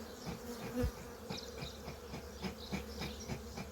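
Dense buzzing of many honey bees close by around a hive during an inspection, a continuous humming drone with small swells and bumps as insects move around.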